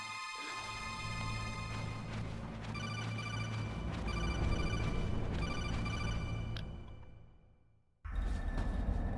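Codec call ringing in the video game Metal Gear Solid, a repeating electronic ring pulsing in regular bursts over a low background hum, cutting off abruptly before a brief silence and then the game sound resuming.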